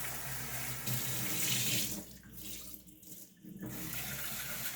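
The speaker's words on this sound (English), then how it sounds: "Rinsing the rice" Tap water runs steadily into a bowl of white rice being rinsed, a loud continuous gushing flow that briefly thins and shifts partway through before returning at full strength.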